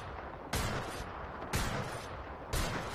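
Three evenly spaced gunshot blasts from a weapon in Apex Legends ring out about one second apart, each a sharp crack with a short decaying tail, fairly loud with no talking.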